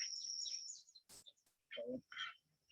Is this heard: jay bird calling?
yes